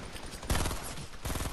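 A short burst of video-game gunfire, a loud cluster of shots cracking in the middle, then another rattle of shots near the end.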